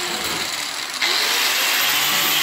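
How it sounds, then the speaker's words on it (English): An angle grinder runs against a steel lawnmower blade being finished into a machete, a loud continuous hiss that jumps sharply higher as the disc bites into the metal. "What I'm gonna do is use my angle grinder, just give it a quick finish."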